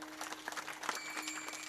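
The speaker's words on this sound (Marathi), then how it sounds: "त्यांच्यासाठी एकदा छान टाळी वाजवा" An audience at a Marathi kirtan gives brief, fairly faint clapping, a loose patter of hands with a few sharper claps standing out.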